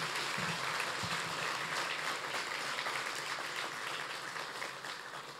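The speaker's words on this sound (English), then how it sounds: "Another big round of applause for Dame Selma." A large audience applauds at the close of an evening memorial lecture, dense, even clapping held steadily, thinning slightly toward the end.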